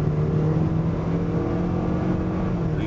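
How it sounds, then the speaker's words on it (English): A 2005 Toyota Camry LE with about 83,000 miles accelerates on the road, a steady, loud engine drone with road and tire noise, heard from inside the car. "I'm gonna give it some gas here."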